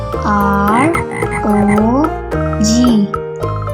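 A frog's croaks come through as a few drawn-out, pitch-bending calls over light musical backing, fairly loud and close, with no spoken words.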